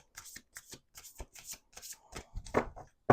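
A deck of playing cards is shuffled by hand, giving a string of short riffling bursts and soft slaps in an uneven rhythm, close and fairly quiet, ending with a sharper clack.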